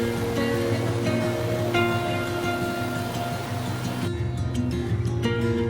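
The world's tallest indoor waterfall in Singapore's Cloud Forest gives a constant loud rushing roar of water, with steady tonal hum and music layered over it throughout.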